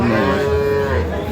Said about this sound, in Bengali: আমরা দেখছি দুধের গাবি গরু